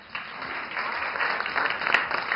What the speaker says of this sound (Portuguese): Eu quero aplausos.